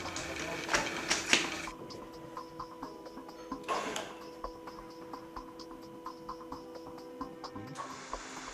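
A BDS AutoCUT-500 edge banding machine's motor runs with a steady mechanical hum and faint ticking, marked by a few sharper clicks near the start and middle.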